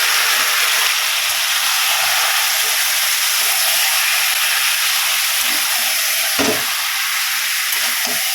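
Marinated chicken fries in oil with garlic and spices, producing a loud, continuous sizzle with occasional scraping and stirring clatter close to the pan.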